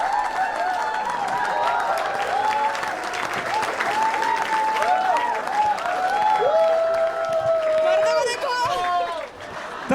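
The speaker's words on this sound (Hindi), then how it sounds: "तालियां तो अभी तक औरतें बजा रही है" Women in a comedy show audience clap: steady, close applause runs throughout, overlaid by loud voices, shouts and whoops.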